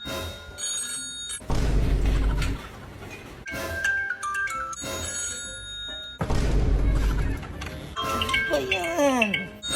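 A bright electronic alarm clock rings in repeated bursts, loud and close, while people talk over and between the rings.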